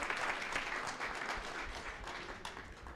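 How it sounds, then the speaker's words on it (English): Applause from an audience at a reverse pitch event during a city innovation week, a steady dense patter of many hands clapping at moderate distance, fading slightly toward the end. "Let's give him a round of applause."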